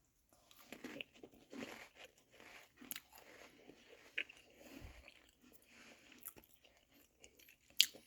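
Crunchy chewing and biting of snacks dipped in chipotle bacon ranch dip, close up, in irregular bursts with small crackles and no talk.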